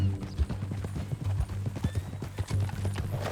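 Horse hooves clip-clop steadily on the ground in the video game Red Dead Redemption 2, a close, rhythmic series of hoofbeats with a faint whinny, and no talking over them.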